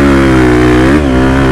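A 2023 Husqvarna FC 250 dirt bike engine revving hard and holding near the rev limiter, a loud, close, steady buzzing drone with a brief dip and recovery midway.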